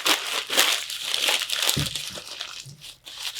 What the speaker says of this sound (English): we'll take one more sheet of paper, but this time we're going to use the whole sheet